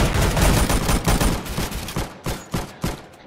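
Rapid bursts of automatic bow fire in the Roblox game Arsenal, a dense volley of loud, punchy shots that thins into several separate sharp cracks toward the end.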